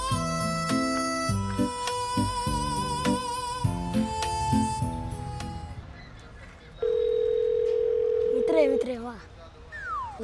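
A steady telephone dial tone holds for about two seconds after a stretch of music, clear and close, followed by brief chirping tones.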